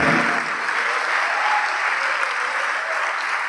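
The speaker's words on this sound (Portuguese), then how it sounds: "vamos aplaudir mais, vamos aplaudir mais" A church congregation claps together in sustained, even applause, a thick continuous wash of hands at steady loudness throughout.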